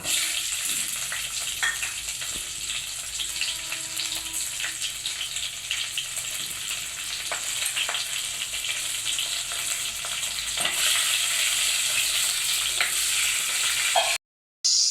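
Cumin seeds and four green chillies fry in hot oil with a loud, dense, continuous sizzle and crackle close by, broken by a brief silence near the end.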